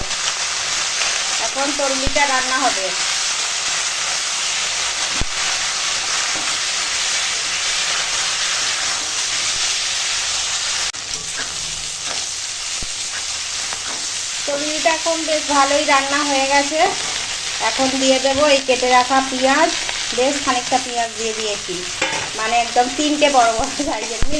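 Spices with salt, turmeric and chili powder fry and are stirred in a pan for sour lentil dal, a steady loud sizzle with scraping stirs and a voice talking over it at intervals.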